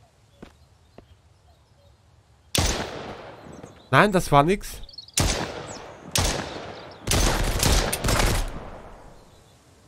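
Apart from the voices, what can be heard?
gunshots in the video game Mist Survival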